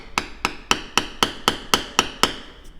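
A mallet striking a bevel tool on leather, eight sharp evenly spaced taps in quick succession, close and crisp, with no talking.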